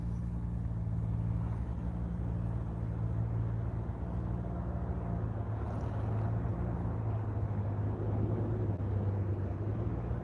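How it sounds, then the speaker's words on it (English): Neighbors' engine runs steadily, a low droning hum with a constant pitch heard from some distance across a quiet horse property, unbroken for the whole stretch with no talking. "Neighbors are working. You can probably hear the engine"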